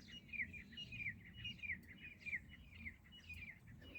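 Repeated bright morning bird chirps and trills ring out steadily over a low rumbling background in a Rajasthan village, several calls overlapping at moderate distance.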